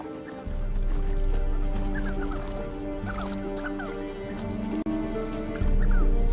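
A flock of sandgrouse calls at standing water in the Egyptian and Sinai desert: short, repeated chirping calls in loose bursts over a steady low droning background.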